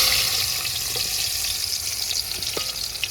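Chopped onions crackle and sizzle steadily in hot oil with popped mustard seeds, a dense continuous frying hiss close by, with faint stirring taps and no voices.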